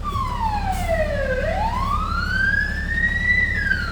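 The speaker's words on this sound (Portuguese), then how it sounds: "Eu vou utilizar uma sirene, que é uma sirene tranquila quando a gente vai em algum incêndio" A fire truck siren in its calm mode, used by military firefighters heading to a low-severity fire, sweeps down in pitch and then slowly rises again, loud and steady over a constant low rumble with no talk.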